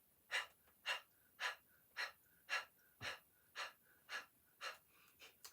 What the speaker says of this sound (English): Let's begin a breath of fire. Go ahead. You can start with that panting and then move it into the nose.